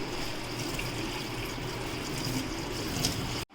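Lentils for a Chettinad sweet being rinsed in water, a continuous close splashing and sloshing wash that cuts off abruptly at the end.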